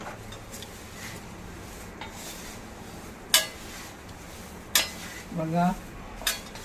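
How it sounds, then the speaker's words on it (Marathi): Thin poha flakes dry-roasting slowly in a kadhai on a low flame, with a few sharp spatula clinks against the pan and a short scraping rustle, all fairly quiet; a single word is spoken briefly. "मस्त पोह्यांचा आवाज येतोय"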